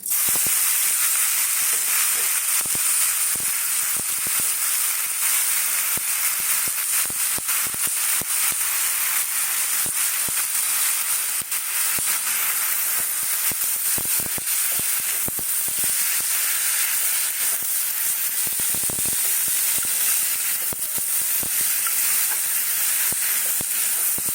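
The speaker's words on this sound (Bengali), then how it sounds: "তেল দিয়ে দিয়েছি। এখানে সমস্ত সবজিগুলো দিয়ে দিচ্ছি, দেখো।" Vegetables for momo filling hiss and sizzle steadily in hot oil, a constant loud frying noise that runs unbroken for the whole stretch, with small crackles and pops and no talk.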